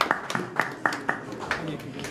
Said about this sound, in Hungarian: Tapsot kérek szépen minden felkonferáltnak.